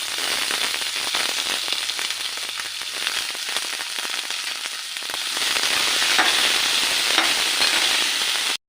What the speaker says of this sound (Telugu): నెక్స్ట్ దొండకాయలు వేసుకోవాలి. బ్రౌన్ కలర్ వచ్చేంత వరకు దొండకాయలు వేపాలండి.